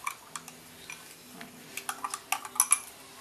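A metal tablespoon stirs a liquid mixture in a container to dissolve it, giving a string of light clinks and taps that start sparse and grow quicker and louder toward the end, heard alone without talk.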